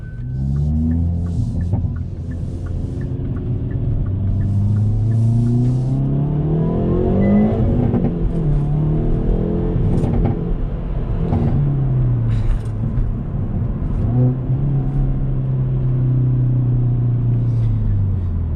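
A facelifted 2021 Hyundai Veloster N is driven at night, its exhaust booming and rising through repeated revs and gear changes with rev-matched blips, a loud, close engine drone that climbs and falls several times.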